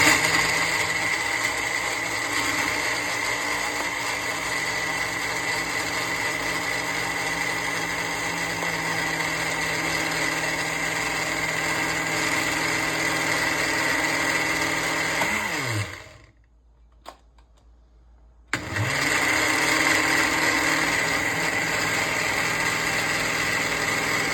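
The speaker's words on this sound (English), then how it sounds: "Gonna blend that up into a nice creamy paste." A blender whirs loudly and steadily, blending green plantain with milk and a little water into a creamy paste for Jamaican-style porridge, stopping briefly for a couple of seconds before roaring back at full speed.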